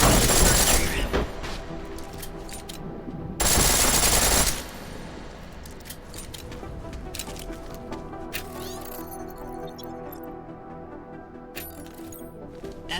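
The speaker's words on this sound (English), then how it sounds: "The pistol in full auto will take down targets fast. Burn through your ammo." Full-auto pistol fire in Deus Ex: Mankind Divided comes as two loud, dense bursts of rapid shots, followed by quieter game ambience with scattered clicks and faint effects.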